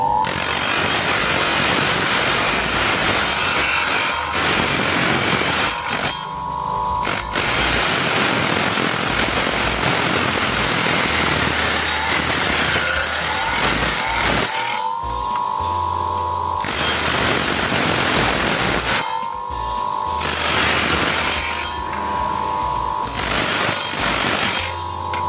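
Printed coconut shell pieces are cut one by one along marked lines with a power tool. The harsh, loud, close grinding buzz runs almost continuously, with brief tonal dips between cuts and no talking.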